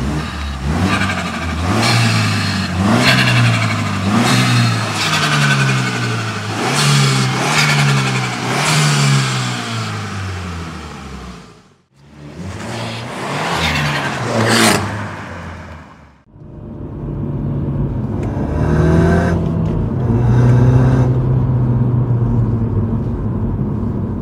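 A Mini F56 John Cooper Works engine fitted with a forged carbon fibre Armaspeed intake revs loudly on the road, with repeated rising and falling throttle blips, a brief drop to quiet, then more strong revving and acceleration.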